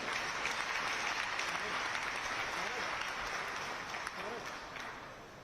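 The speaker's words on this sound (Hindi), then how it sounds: "तो वाकई इससे भी ज्यादा दमदार तालियां हमें चाहिए होंगी।" Audience clapping after a speech at an industrial inauguration and foundation-stone ceremony in India, a sustained wash of applause at moderate distance that tapers slightly toward the end, with voices faintly mixed in.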